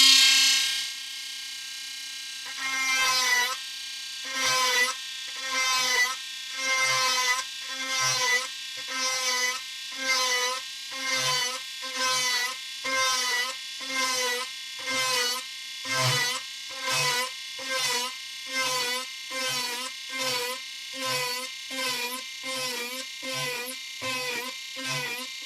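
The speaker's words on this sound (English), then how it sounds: "I'm just going to drill some holes about" A small rotary tool drills shallow 2mm holes into the wooden gun deck of a 1:23 Mantua Models HMS Victory diorama, buzzing in a long series of short regular bursts, each pulse a brief high whine separated by quiet gaps.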